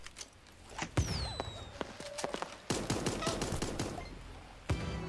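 Rapid gunfire crackles in a 2D Fortnite game amid chaotic fighting, a dense run of sharp shots in quick succession with a few brief tonal game effects.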